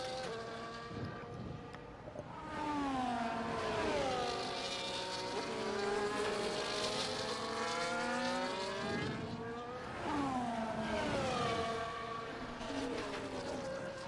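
F1 video game cars racing at Zandvoort during a Dutch GP league race, with engine notes rising and falling through gear changes as cars pass, loud and continuous with no talk.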